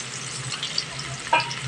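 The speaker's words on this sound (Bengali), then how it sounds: "পেঁয়াজ এখানে ভাজা হয়ে গেছে ঠিক এই পর্যায়ে ভেজে নিতে হবে" Onions fry in a pan over a medium flame with a steady, low sizzle and a brief clatter of stirring partway through, for a thin village-style egg curry.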